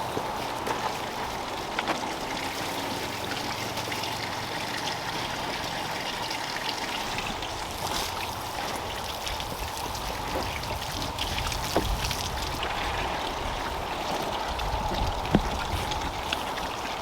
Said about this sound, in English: And now I'm just gonna refill the water